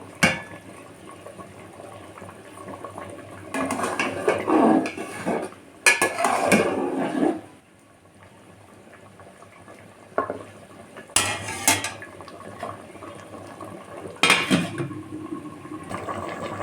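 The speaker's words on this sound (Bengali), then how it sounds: "মাছগুলোকে এবার বেগুনের মধ্যে দিয়ে দেবো ঢেকে আরও কিছুক্ষণ রান্না করে নেবো" Small fish and eggplant cook in a pot, with a quiet steady simmer broken by bursts of stirring, pot clatter and utensil scraping, then a lid-like clang and more rattling pauses.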